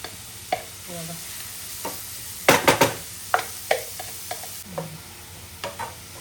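Onion sautéing in a little oil for paneer bhurji crackles softly beneath repeated sharp scrapes and taps of a spatula on the pan, one louder flurry of stirring near the middle, no talking.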